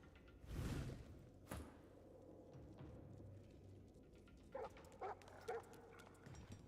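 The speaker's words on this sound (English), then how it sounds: "Oh, I hear dogs." Dogs barking in the video game Divinity, a few sharp barks and yips scattered over a quiet ambient game background, with a whoosh and soft thuds.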